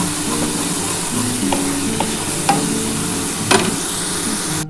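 Egg curry masala with capsicum frying in a pan, a soft steady sizzle under several sharp spoon taps and scrapes as the spices are stirred, no talking.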